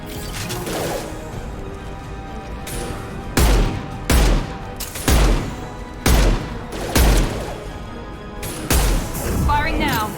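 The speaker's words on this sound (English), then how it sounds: "Firing now." Gunfire in Mass Effect 2 cracks out in several loud, closely spaced bursts over a steady rumbling game background, with spoken voices mixed in around the shots.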